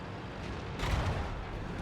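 A World of Tanks tank fires an HE shell, a single heavy booming shot landing mid-moment amid constant rumbling battle noise, loud and close.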